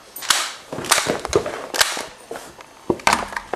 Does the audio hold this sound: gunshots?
yes